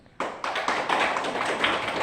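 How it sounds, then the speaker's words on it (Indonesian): A classroom group bursts into dense, continuous hand clapping that starts abruptly and holds steady and fairly loud to the end, with no one speaking over it. "Yang masih disediakan kasih tepuk tangan sama orang ini."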